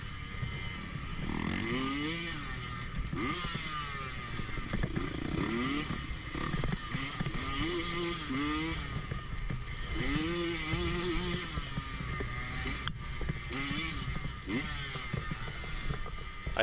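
A KTM 150 dirt bike races flat out through woods in a cross-country event, its engine close and loud, rising and falling steadily through gear changes and throttle blips with no pause.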